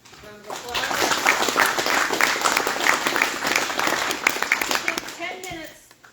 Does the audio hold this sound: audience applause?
yes